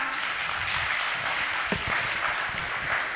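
Audience applause at a Hindi-language literary panel discussion: a steady, dense wash of clapping that carries evenly throughout, with a few sharper claps standing out and no voices over it.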